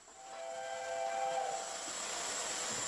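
Steam locomotive 6007 hisses while it is prepared at Bury on the East Lancashire Railway, a steady close hiss of escaping steam with a thin high whistle-like tone running through it and no voices.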